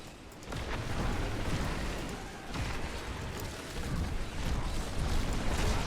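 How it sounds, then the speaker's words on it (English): Diablo 3 Reaper of Souls gameplay with a Necromancer: dense, rumbling in-game explosions that keep going without a break, loud and close, with no one talking. "more explosions"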